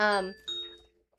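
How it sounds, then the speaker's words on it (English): A two-tone electronic chime rings once, bright and close, then fades out. "He's gonna keep ringing the doorbell until someone lets him out."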